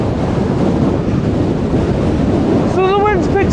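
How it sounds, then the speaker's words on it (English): Strong wind roars steadily across an exposed fell path on the Fairfield Horseshoe toward Great Rigg in the Lake District, buffeting the microphone loudly throughout, with a brief high whistling tone near the end. "So the wind's picked up a little bit up on the way to Great Rigg."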